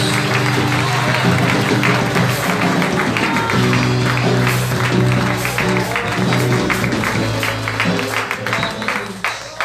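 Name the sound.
church congregation applauding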